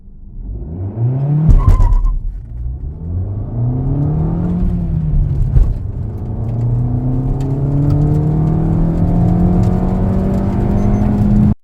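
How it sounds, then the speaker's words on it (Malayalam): A Maruti Suzuki Ignis with the 82 bhp K12B petrol engine and manual gearbox revs up and pulls through the gears while driving, its rising engine hum loud and close, alone without talk. "എപ്പോഴും മാരുതിയിൽ കാണുന്ന K12 എഞ്ചിൻ. NVH അല്പം കുറവ് പോലെ തോന്നി, പക്ഷേ ഈ നോട്ട് വരുമ്പോൾ ഞാൻ ഓക്കെയാണ്."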